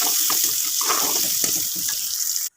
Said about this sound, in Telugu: అంతలోపు నేను చికెన్ అనేది కడుగుతాను